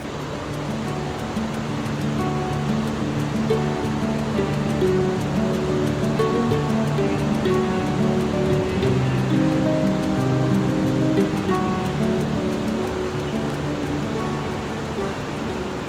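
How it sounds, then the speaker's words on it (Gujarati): The Bhagirathi and Alaknanda rivers rush together at their confluence at Devprayag, a loud, continuous roar of fast water that holds steady throughout, with faint voices humming beneath it. "આ બાજુ છે ભાગીરથી નદી આ બાજુ છે અલકનંદા અને ગંગા નદી બને છે"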